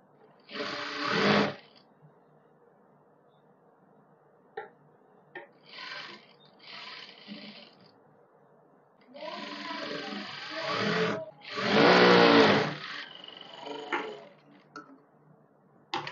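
A sewing machine stitches the seams of palazzo pants in several separate bursts of fast, close mechanical whirring, with short pauses and light handling sounds in between.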